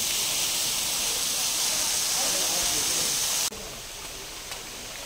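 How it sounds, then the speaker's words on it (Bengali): Water pouring down like a small waterfall somewhere in Meghalaya, a steady broadband rush that holds constant, then drops abruptly to a quieter, thinner flow for the last second and a half. "কি সুন্দর ঝোড়ার মতো পড়ছে জলটা"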